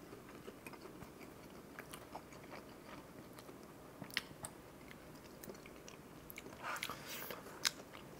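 Close, quiet chewing of pizza with barbecue sauce, with soft bites and crunches in an irregular rhythm and a few sharper crackles near the end, no talking.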